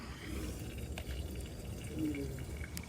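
Water runs steadily through a PVC drain pipe laid through a forest, a low continuous rushing with faint drips and trickles, close by and without talk.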